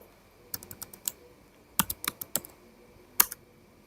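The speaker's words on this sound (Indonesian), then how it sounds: "kita ketikkan sudo" Keys clatter on a computer keyboard as a terminal command is typed in a VirtualBox networking setup, arriving in short quick bursts of separate clicks split by brief pauses, close and fairly quiet.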